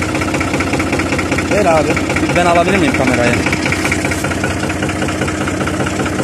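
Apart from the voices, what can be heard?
tractor diesel engine running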